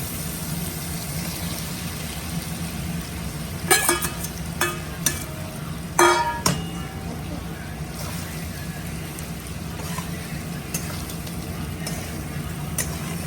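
Fried vegetables are tossed into a pan with puti fish and stirred, giving a steady sizzle broken by a few sharp scraping clatters of the spatula.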